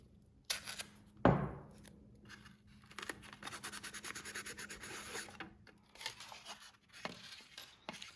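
Tape is pulled and pressed down to secure a yarn tail on the back of a stitched fall apple design, giving a sharp tearing rip followed by quiet, close scratchy rubbing and crinkling.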